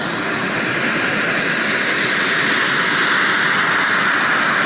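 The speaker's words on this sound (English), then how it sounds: "That's a serious freaking helicopter." Heavy helicopter drone flying overhead, a dense, steady roar of rotor and turbine noise holding loud and unbroken throughout.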